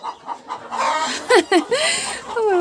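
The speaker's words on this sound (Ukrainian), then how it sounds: "Така смішна ця курка." A chicken clucks and squawks close by in a series of short, rising calls, with quieter background noise between them.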